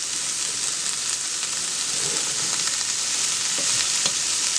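Meat crumbles being stirred in a hot pan for a low-salt hamburger-helper-style dish, giving a steady close sizzle with soft scraping and occasional spoon clicks throughout, no talking.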